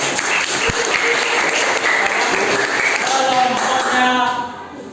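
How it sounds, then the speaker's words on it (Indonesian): A classroom of students claps together for a student group, dense, even applause close by that carries steadily and then tapers off at the end. "jadi beri tepuk tangan kepada kelompok"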